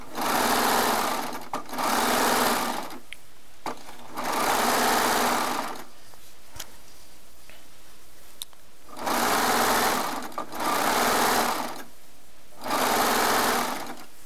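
A Baby Lock air-threading serger stitches fabric in loud, close bursts of rapid whirring, running several times with short pauses between runs.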